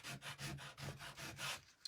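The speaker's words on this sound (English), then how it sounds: "you can sand the F too" Sandpaper rubbing back and forth over a painted wooden letter F, a steady rasping in even strokes, close and fairly quiet.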